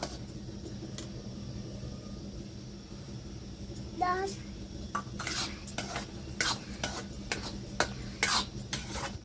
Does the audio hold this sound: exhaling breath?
no